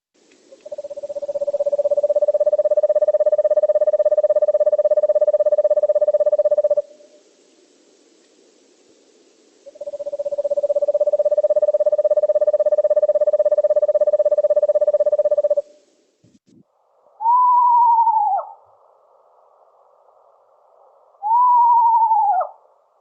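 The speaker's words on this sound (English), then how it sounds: "I've also got the sound, and it's a very interesting call that the screech owl" Recorded eastern screech owl calls: two long, steady monotone trills lasting several seconds each, followed by two short descending whinnies, clear and loud against near silence.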